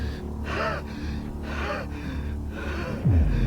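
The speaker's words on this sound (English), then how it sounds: "Why is he panting?" A male character pants in the Corpse Party Blood Drive video game, with several heavy, rhythmic breathy gasps repeating over a low droning background and a sharp low swoop near the end.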